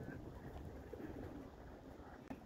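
Pigeons kept in a home loft coo softly and faintly against a low, steady background hum, with a short low murmur and a small click near the end.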